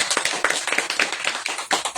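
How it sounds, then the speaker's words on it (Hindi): A church congregation claps together in quick, dense rhythm, the sharp slaps close and loud and filling a brief stretch without talk. "ताली बजा सकते"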